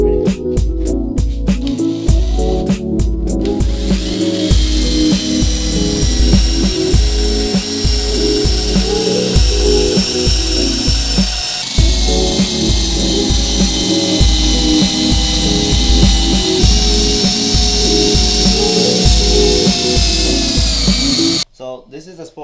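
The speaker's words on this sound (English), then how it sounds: "we're gonna use a 3M eraser wheel and try to hit up most of these off." A 3M eraser wheel spins against the trunk of a Lexus IS F, stripping off adhesive residue with a loud, whining rotary grind that pulses and stutters as it is pressed on and lifted off, running nearly nonstop before cutting out at the end.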